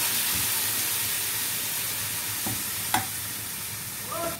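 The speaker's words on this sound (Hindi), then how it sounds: "सबको अच्छी तरह मिक्स कर लेंगे, थोड़ा सा इसमें पानी डालेंगे जिससे मसाले जलेंगे नहीं।" Steady sizzling hiss from a hot pan of spices with a little water, broken by a few soft scrapes and taps as the spices are stirred for potato curry.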